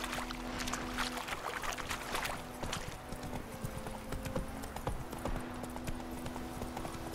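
Horse hooves clip-clopping steadily in The Witcher 3 game, a continuous rhythmic trot over ambient background noise, with no talk.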